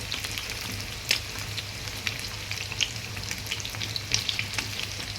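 Food frying in oil in a pan, a continuous close hiss and crackle with light pops, plus a few soft clinks of stirring, and no one talking.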